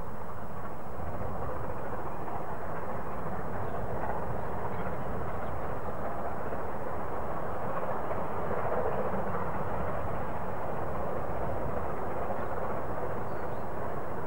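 The Southern steam train 'Golden Arrow' runs across Folkestone Viaduct, heard as a continuous low rumbling roar at a distance, steady and fairly faint throughout with no voices.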